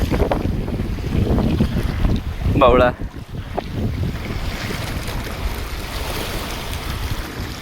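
A boat on the sea off a rocky island shore comes through as a steady rumbling wash, with heavy wind buffeting the microphone and surf along the coast. A brief loud burst comes midway, and a voice speaks briefly.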